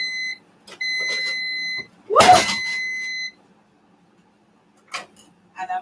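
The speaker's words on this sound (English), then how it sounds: "I hear my air fryer beeping." An air fryer beeps in a series of steady electronic tones in a home kitchen, followed by a burst of noise and a voice exclaiming, with further short beeps near the end.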